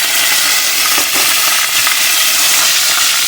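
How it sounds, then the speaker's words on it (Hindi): Curry leaves dropping into hot oil with browned fenugreek seeds for quince pickle give a loud, steady crackling sizzle that flares briefly and continues alone throughout. "अब इसमें हम कड़ी पत्ता डाल देंगे"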